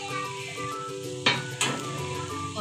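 Spoon stirring peanut powder into cooked moong dal in a pot, giving soft scraping and clinking with a couple of sharper knocks against the pan over a faint background tone.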